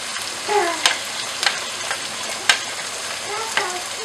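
Cabbage, carrot and capsicum frying with chicken in a home kitchen pan: a steady close sizzle with occasional sharp clinks and scrapes of a stirring utensil every second or so, no voices.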